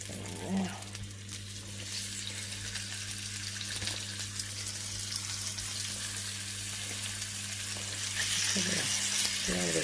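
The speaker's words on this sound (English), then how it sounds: "So our oil in our pan's pretty hot already. Just pop them in there." Food pieces dropped into already hot oil in a frying pan, about six at a time, sizzling steadily and fairly close throughout, with a brief louder burst of crackling near the end and faint kitchen clatter.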